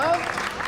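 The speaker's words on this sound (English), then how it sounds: "how about a round of applause for the man of the hour, huh?" Brief clapping and crowd noise from a TV episode of Severance, mixed with talk, lasting under a second.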